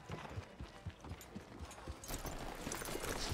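Rhythmic horse hooves clip-clop steadily at a trotting pace over a dense, noisy background in the video game Red Dead Redemption 2, the beat continuing throughout at moderate loudness.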